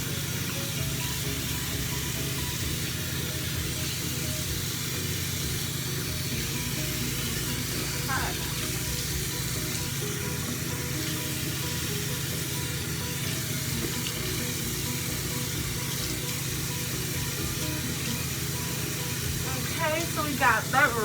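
Tap water runs steadily into a bathroom sink while a face is rinsed, a continuous broadband hiss and splash lasting throughout, with a few brief louder splashes near the end.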